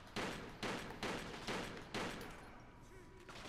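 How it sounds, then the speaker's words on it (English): Rapid bursts of gunfire from the video game Kane & Lynch 2: Dog Days, five or six loud volleys in quick rhythm that fade into lower background noise, with game sounds continuing underneath. "As long as you stop shooting right now at us."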